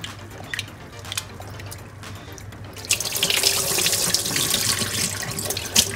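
A kitchen tap runs into a sink while lentils are rinsed for an Indian-style lentil dish, at first as a light stream with occasional clinks and then as a louder, fuller steady gush close by.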